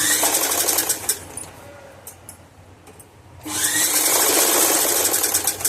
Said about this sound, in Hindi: जोड़ने के बाद में तो मैं एक इसमें यहाँ से ऐसे करके सिलाई देती हूँ